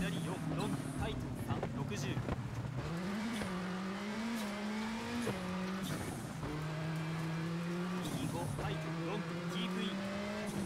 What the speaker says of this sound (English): even braking, you know, makes the car slide.